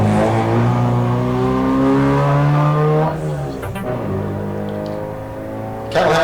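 Historic race car at a sprint event, its engine loud and close, rising through the gears before the pitch drops on a lift-off and then builds again, with a commentator's voice faintly underneath.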